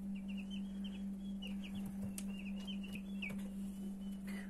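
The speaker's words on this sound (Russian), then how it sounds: "хочу вам показать наших цыплят от нашего родительского стада" Young chicks with shaggy feathered feet, offspring of a parent flock, give thin high peeping chirps in scattered short runs over a steady low electrical hum.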